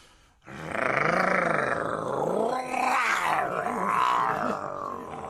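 A voice imitating a lion's roar in a BBC radio production of Shakespeare's comedy, one long, loud, growling roar with rising and falling pitch, close to the microphone, starting after a brief quiet moment.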